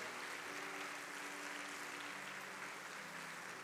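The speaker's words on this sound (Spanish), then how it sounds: "Un fuerte aplauso a su Señor" Steady, sustained applause from a large church congregation, a dense wash of clapping heard from a distance with no breaks.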